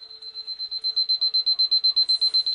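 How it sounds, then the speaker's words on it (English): Kitchen timer beeping in a rapid, even run of high electronic beeps, about six per second, close and clear in a quiet room with no talk. "that was the timer you can hear"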